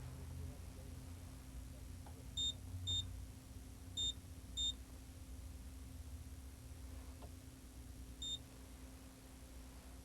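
Short electronic beeps from an ADT Safewatch alarm keypad sound in pairs, then a single one later, sharp and high over a quiet hum.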